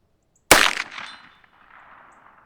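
A single sharp shot from a Heritage Rough Rider Rancher revolver firing VMAX .22 Magnum rounds, with a bright metallic crack that rings and fades over about a second, fairly close and loud, with no other sound around it.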